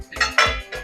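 A metal lid set down on a pot of simmering sandga bhaji with peanut powder, three quick close clinks and rattles of metal on metal.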